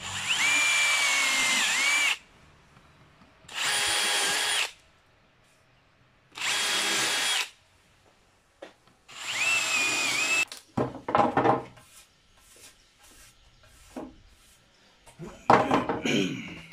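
Power drill driving screws into a wooden bed board, heard as four loud separate whirring bursts of about two seconds each with gaps between, followed by scattered knocks and handling clatter of wood.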